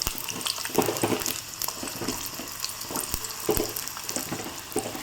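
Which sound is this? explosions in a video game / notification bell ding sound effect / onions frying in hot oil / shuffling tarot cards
onions frying in hot oil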